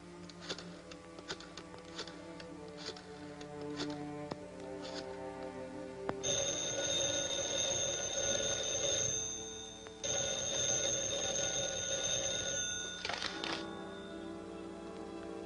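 An old-fashioned telephone bell rings in a vintage film serial, with two long sustained rings separated by a short gap, following light clicking and tapping sounds.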